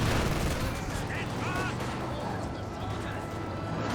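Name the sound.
gunfire in the video game Company of Heroes 2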